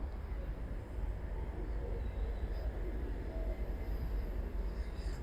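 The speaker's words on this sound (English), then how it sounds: "there's the train right in front of me, just waiting for me" A steady, deep rumble of an Amtrak Mardi Gras train idling at a station nearby, constant and unchanging throughout, with no distinct voices.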